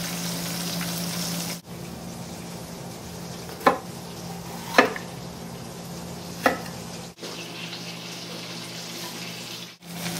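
A pork sirloin roast sears in a hot pan with a steady, close sizzle that runs the whole time. Several sharp scrapes and clanks mark the meat being turned, and there is no talking.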